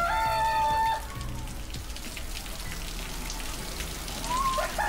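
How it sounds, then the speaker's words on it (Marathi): Rain falls steadily at a private pool villa in Karjat, a soft continuous patter under faint background sounds, with a few brief tonal chirps near the start and end. "पाऊस आला."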